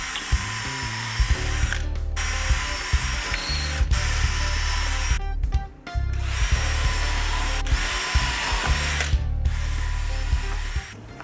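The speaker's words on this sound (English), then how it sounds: "Then I'm going to drill two holes in each of the bearers" A power drill bores holes through clamped timber decking bearers, loud and close, running in sustained spells with a few short stops and restarts.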